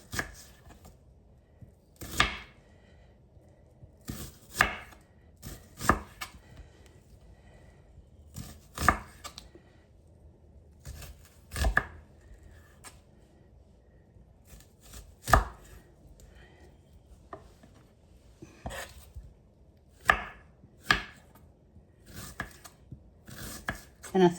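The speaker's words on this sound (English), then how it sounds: "I have a red onion that I peeled and cut in half. And I'm just going to slice it in really thin little strips." Knife slicing a peeled red onion half into thin strips on a cutting board, sharp crisp thuds in short irregular bursts, close and clear with quiet pauses between.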